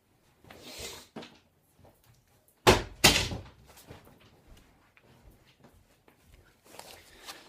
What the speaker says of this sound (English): I just had to close the door